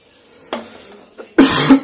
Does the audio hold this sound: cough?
yes